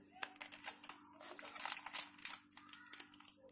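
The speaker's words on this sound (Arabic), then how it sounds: "هبتدي بس افتح الخميره واخد منها معلقه صغيره." A packet of instant yeast is torn open with close, dense crinkling and rustling of the wrapper in a home kitchen, a series of quick crackles over about three seconds with no talking.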